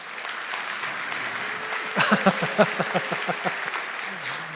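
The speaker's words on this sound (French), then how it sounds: "Ah, si, c'est des applaudissements, clairement." Scattered applause from an audience at a talk, a soft bed of clapping with a cluster of louder, more distinct claps in the middle before it fades, and a voice briefly audible.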